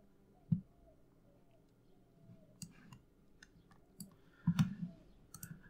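A keyboard key pressed during length measurement in ImageJ, giving a few sparse, separate clicks, one sharp and a cluster later, against a quiet background with no talking.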